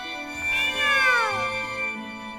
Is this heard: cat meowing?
yes